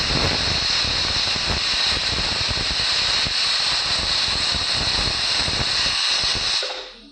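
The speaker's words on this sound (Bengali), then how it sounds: "এবার মনে হচ্ছে সিটিটা উঠে যাবে, দেখো হ্যাঁ সিটিটা উঠে গেছে।" Pressure cooker whistle on a gas stove while cooking pulao: a loud continuous steam hiss that holds for about six and a half seconds, then cuts off abruptly.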